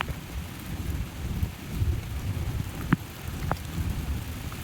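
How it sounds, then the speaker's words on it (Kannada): Heavy rain at Magod Falls in Yellapur, Uttara Kannada, a steady broadband wash with a low rumbling bed and a few brief sharper drops or knocks, continuous and fairly loud with no talking. "ಮಳೆ ನಿಂತ್ರೋದು ಗೈಸ್. ಈಗ ಜೋರು ಬಂತು."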